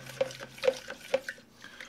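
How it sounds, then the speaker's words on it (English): Stirring mead must and water together in a bowl, a few soft sloshing swishes with light clinks of the spoon, repeated at an even rhythm, close and quiet. "I'm going to stir that up because I can already see that it didn't mix well with the water"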